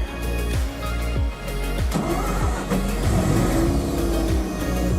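A Mazda RX8 engine fires up and revs in repeated short bursts, loud and close, the pitch sweeping up and down with each blip.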